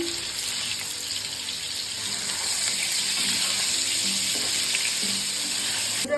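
Potatoes frying in hot oil in a pan give a steady, dense sizzle that stays close and loud throughout, with no talking.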